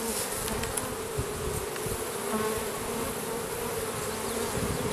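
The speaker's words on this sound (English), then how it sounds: "And I have my bees." A dense, continuous buzzing of many honey bees fills the air, close and steady, with no talking.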